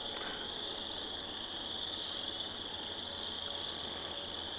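A dense chorus of frogs calls from a small marshy area, a steady, continuous trilling that stays loud and unbroken throughout with no voices over it.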